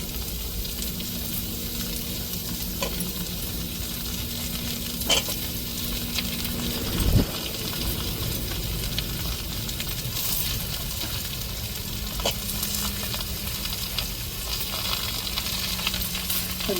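Brinjal, tomato and chilli frying in a pan, a steady close sizzle with occasional stirring clinks and scrapes of a utensil running throughout, no voices.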